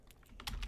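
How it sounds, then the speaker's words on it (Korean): A few soft clicks of keys pressed on a computer keyboard for copy and paste shortcuts, quiet and close, roughly four quick taps in under a second with no voice. "그 다음에 컨트롤 C를 눌러서 컨트롤 V를 누릅니다."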